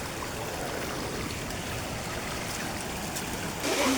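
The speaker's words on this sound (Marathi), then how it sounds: "पण सध्या फक्त ओहळच आहे छोटीशी" Gentle, continuous burble of a small stream flowing down a dry-season waterfall course nearby, an even watery hiss, with a brief sound at the end.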